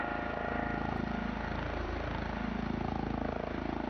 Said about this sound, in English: the growl is the main rotor head